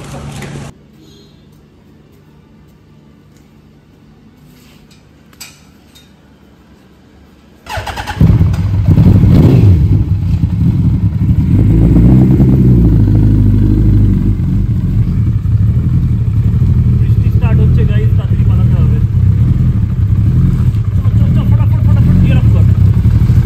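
A loud motorcycle engine starts up after a quiet stretch and then runs steadily as the bike rides off with a passenger holding a bag, in unsettled weather, a low engine roar filling the rest of the ride.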